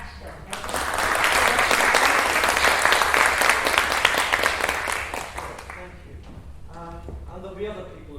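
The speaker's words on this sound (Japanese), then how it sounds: "日本フィルハーモニー交響楽団の奏者の皆様を皆さん拍手でお願いします" An audience applauds the players of the Japan Philharmonic Orchestra at a concert: a dense, sustained burst of clapping that swells for about five seconds, then tapers off as voices take over.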